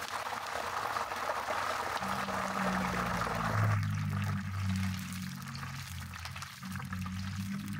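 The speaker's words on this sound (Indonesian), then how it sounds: "Kita goreng terlebih dahulu 21 lembar daun jeruk." Twenty-one kaffir lime leaves fry in hot oil for kue lebaran, giving a steady bubbling sizzle that fills the clip, close and fairly quiet with no talking.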